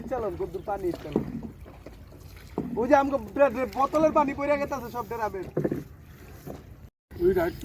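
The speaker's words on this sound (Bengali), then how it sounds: "দেখ ওই নৌকা চালা দেখ" A boat is rowed across Kharshu wetland on a fishing outing. Soft water sloshing and paddle movement stay close but mostly under steady talk from several people.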